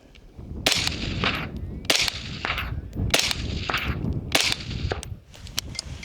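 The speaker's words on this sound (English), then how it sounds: "this is the Gemtech, and we're gonna do the same test. So let's go 4 rounds" Suppressed 5.56 rifle shots through a Gemtech suppressor, several sharp cracks at roughly one-second intervals with metallic clanging ring and outdoor echo, close and loud.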